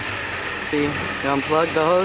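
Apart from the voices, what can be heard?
Cobalt SS turbocharged engine idling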